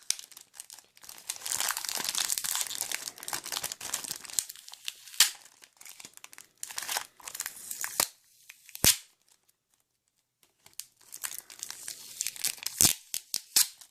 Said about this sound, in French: on va essayer d'enlever le scotch